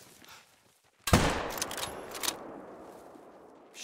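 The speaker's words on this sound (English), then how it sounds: "That was a good shot, at least." A single loud rifle shot from a hunting rifle in theHunter: Call of the Wild cracks after a quiet pause, followed by a long rolling echo that fades over several seconds.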